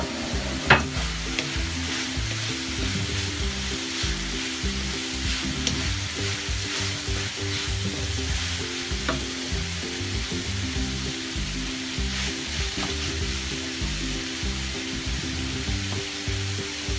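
Hotdog pieces are stirred into macaroni sauce in a pan, giving a loud, continuous sizzle with a repeated scraping stir rhythm close by and no talking.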